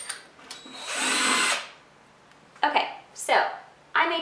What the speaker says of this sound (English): use a slightly larger inch drill bit